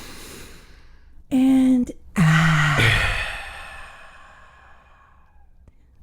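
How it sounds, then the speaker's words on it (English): One person takes a slow, deep breath and lets it out in a long, audible sigh with some voicing, close and clear, fading off into quiet afterward. "just take a deep breath"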